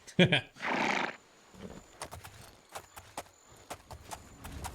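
In the Oblivion video game, a horse gives a loud, close neigh near the start, followed by a string of light, evenly spaced hoofbeats clip-clopping for several seconds.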